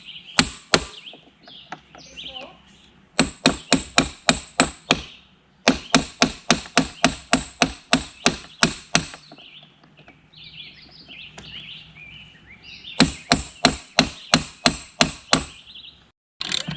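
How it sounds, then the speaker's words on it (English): A manual impact screwdriver is hit repeatedly with a hammer to loosen a screw during a 1969 Alumacraft boat restoration, sharp metallic strikes in quick rhythmic runs of about six to eight blows, separated by pauses, with faint background chirping. "This is an impact screwdriver."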